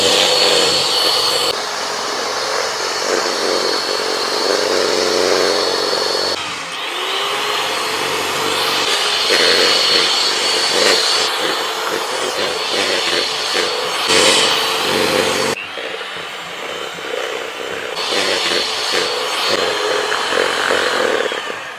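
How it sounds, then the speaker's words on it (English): An electric whisk whips eggs for an Eton mess dessert, giving a steady, loud motor whine that runs the whole time with a few abrupt shifts in pitch and intensity as the speed or bowl position changes. "This took forever with an electric whisk."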